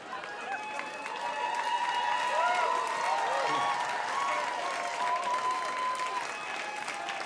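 Comedy club audience applauding and murmuring steadily throughout, a dense wash of clapping and crowd noise with a faint tone running underneath.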